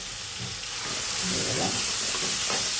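Chopped onions and curry leaves fry in hot oil in a wok, a loud, close, steady sizzle and hiss that thickens midway as stirring scrapes and stirs through it, without any voice.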